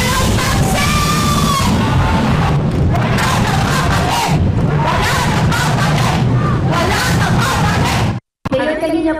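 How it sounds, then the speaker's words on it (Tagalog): A large crowd of political supporters at an outdoor rally in Manila shouts rhythmic chants in loud repeated bursts, voices massed and close, ending in a brief cut to silence. "Yan po ay sigaw naman ng ating mga sumusuporta sa atin."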